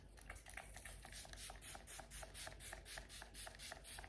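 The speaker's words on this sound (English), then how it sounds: "Keep it perfect makeup fixing spray with hyaluronic acid, free from alcohol" Alcohol-free Catrice Keep It Perfect makeup fixing spray with hyaluronic acid being misted, a fast series of soft, close hissing pumps, around fifteen in a quick even rhythm, faint and alone with no talking.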